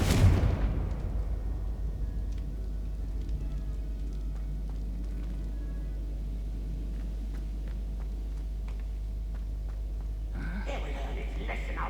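In Hogwarts Legacy, a Confringo spell lands with a loud, fiery blast right at the start, then trails off into a long, low rumble under faint game ambience, with a fresh burst of activity near the end.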